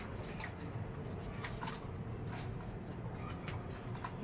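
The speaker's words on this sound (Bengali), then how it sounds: "এই যে কবুতর" Soft, low coos from pigeons in a loft repeat faintly beneath a constant hiss of background noise, with no talking.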